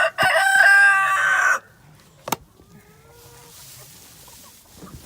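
Rooster crowing loudly and close inside a chicken coop on a farm, a single long harsh crow followed by a sharp knock, then quieter clucks and faint bird sounds against a low background.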